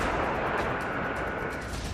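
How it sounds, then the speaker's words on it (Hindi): An explosion destroys an S-400 air defence system and its missiles in Crimea during the Russia-Ukraine war. It comes through as a brief, dense roar of blast noise with crackling bursts, loud and continuous. "ये ऐसा धमाका है"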